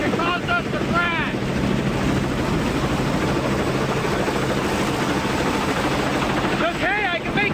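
A helicopter buffeted by strong wind gives a constant loud rotor and engine roar mixed with wind rumble, and brief shouting voices break through at the start and the end.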